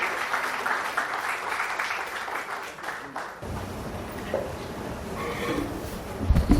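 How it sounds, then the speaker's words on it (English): Audience applause at a book launch for a translated short-story collection in Goa, a dense, steady wash of clapping that carries on throughout and swells slightly near the end. "Let's give them a round of applause."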